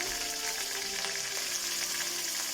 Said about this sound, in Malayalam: ഇനി ഇഞ്ചി, പച്ചമുളക്, കറിവേപ്പില സാധാരണ ചെയ്ത പോലെ തന്നെ എല്ലാം ഒരുമിച്ചിട്ട് കൊടുക്കാം കേട്ടോ. എല്ലാം മൂത്ത് കൊടുക്കും.